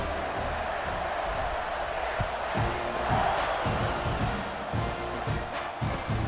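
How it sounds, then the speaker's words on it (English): A stadium crowd cheers and roars steadily in EA Sports College Football 26 ahead of a kickoff, a broad, moderately distant wash of noise with brief swells and no clear talk. "Set to kick it off, and this crowd now ready to get behind them."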